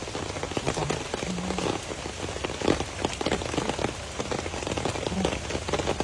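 Steady, dense rain pattering on a surface, a continuous close hiss of drops with no pauses throughout.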